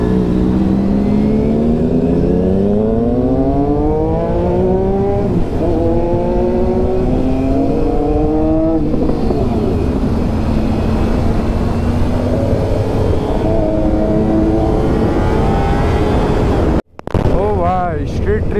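Triumph Street Triple and Daytona 675 superbikes rev loudly on a road ride, their engine pitch rising and falling in repeated sweeps over constant wind buffeting, ending in an abrupt cut.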